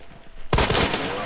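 Gunfire in Hunt: Showdown, a sudden loud blast after half a second of quiet, followed by a ringing, reverberant tail and a couple of rapid follow-up cracks.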